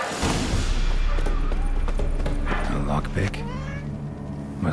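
A cat meows a few times inside The Witcher 3 video game, mid-range and fairly clear, set over a steady low ambient game soundtrack with some speech and clatter nearby.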